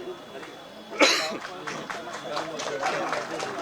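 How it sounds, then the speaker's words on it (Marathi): A single sharp cough bursts out about a second in, followed by continuing speech and background murmur. "जरा थोडा खोकला येतोय"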